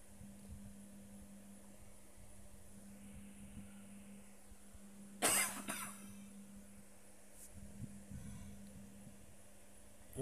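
A single sharp cough bursts out partway through, fairly close, in a quiet home kitchen where garlic is being fried, with a low steady hum underneath and otherwise near silence.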